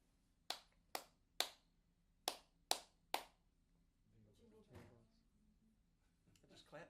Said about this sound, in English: I'm going to clap a rhythm.